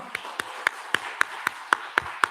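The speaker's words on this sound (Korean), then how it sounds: "우리 크게 한번 박수하겠습니다." Clapping at a Korean church's Sunday morning worship service sounds as about nine sharp, evenly spaced claps in a steady unison rhythm, moderately close, with no talking over it.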